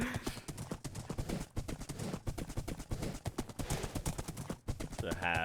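Horses clip-clop steadily through a video game world, hooves sounding in a dense continuous rhythm under game audio and a talking voice.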